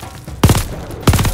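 Heavy guns boom twice in a World War II battle in Call of Duty: Vanguard, each a deep close blast with a short rumbling tail, about half a second apart.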